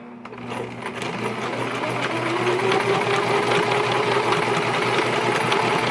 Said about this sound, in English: I'm going to just do a couple back stitches.